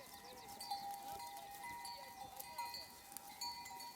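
Several sheep bleat faintly in the distance on highland pastures in Ordu, Turkey, their calls overlapping and wavering, with occasional light knocks in the background.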